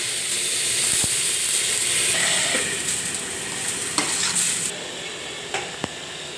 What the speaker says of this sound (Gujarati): હવે આપણે દાળ વઘારી.